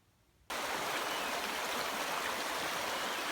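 A river flows at a woodland crossing, a steady broadband rush that cuts in abruptly and stays loud and constant, close by and with no voices over it.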